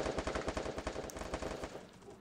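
Rapid automatic gunfire bursts from a multiplayer shooter match, a dense rattling stream of shots that runs loud and steady before thinning out near the end.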